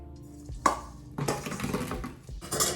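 Bread pieces for an Italian panzanella, tossed with pepper, clink and clatter as they are laid onto a metal cookie sheet in a kitchen: a few close, sharp taps and scraping rattles.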